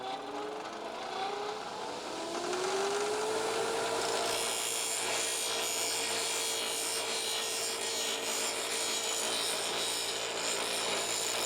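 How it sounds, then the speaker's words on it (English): A plastic nut pattern on an aquaponics bell siphon being filed smooth, a loud, continuous close-up rasping that grows harsher partway through, with no talking. "I've gone and taken the little nut thing that was around the edge here and smoothed it off nice and smooth"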